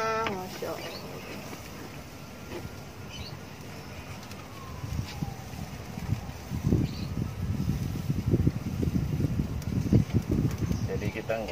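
Wind gusting across the flat concrete roof of a four-storey house where pomfret fish is grilled, quiet at first, then buffeting in strong low rumbling bursts through the second half.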